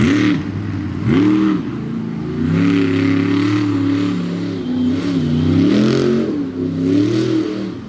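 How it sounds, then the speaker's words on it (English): A monster truck engine roars and revs repeatedly as the truck whips into donuts on the grass infield of the Bloomsburg Fairgrounds, loud and close, pitch rising and falling with each throttle surge. "It looks like he's going to try to whip the truck into another donut"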